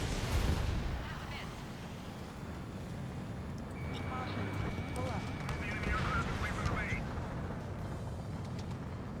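Aircraft cannon fire in the jet combat game Ace Combat 7, a dense rattling burst buried in a steady roar of engine and battle noise, with a voice talking over it.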